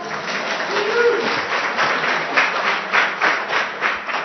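Audience applause at a live literary conversation event, a steady wash of many hands clapping that swells slightly, filling the whole stretch.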